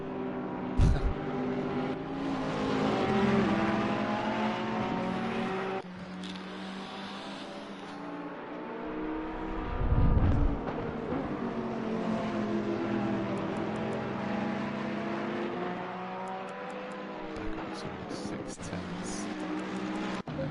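GT3 race cars at the Zolder circuit drive through the first corner, their engines droning and shifting pitch at a distance, with one nearer pass at mid-clip, beneath continuous commentary.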